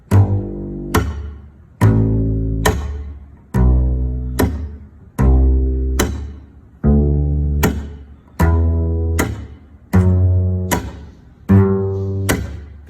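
Slow slap technique on an electric bass guitar, with evenly spaced thumb slaps and string pops ringing out one by one, around sixteen strong plucked hits played loud and close, unaccompanied by speech.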